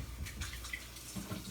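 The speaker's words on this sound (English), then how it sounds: "Rinse out my jar" Tap water runs and splashes into a jar during a rinse at a kitchen sink, a short burst of soft, uneven gurgling close by with no talking.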